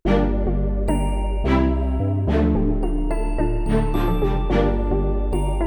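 Bright bell tones ring out in a rhythmic Afrobeat pattern over a deep bass line, each strike decaying with a shimmering tail, made in FL Studio.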